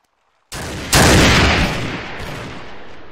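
Gunfire from a battlefield assault in Mount & Blade (Gekokujo), starting with a sharp onset after a brief silence and then a dense, loud burst of overlapping shots that slowly fades into a sustained roar.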